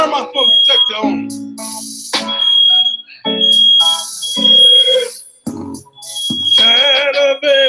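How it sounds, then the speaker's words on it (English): A household smoke detector keeps sounding its sharp, high-pitched alarm tone in loud bursts, mixed with a person speaking close by. "Why you turn my smoke detector on?"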